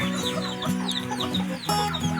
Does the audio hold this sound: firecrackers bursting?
no